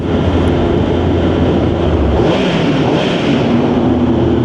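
A motorcycle engine revs hard on a night road ride near a tunnel, a loud, sustained roar that climbs and holds under heavy wind rush, with no voices.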